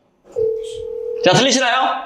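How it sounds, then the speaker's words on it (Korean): A telephone call is dialed on a Korean broadcast: a single sustained tone sounds clearly, then a voice speaks over the tail of it as the line connects. "체험 사례 분에게 한번 전화를 한번 걸어보도록 하겠습니다."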